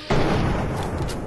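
Loud burst of gunfire in Fallout 3, a dense, sustained barrage of booming shots filling the whole moment after a brief quiet start, with no talking over it.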